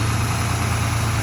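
A Rover SD1 2600S engine idles steadily after a restart, a close, even low-pitched hum with a constant throb and no talking over it.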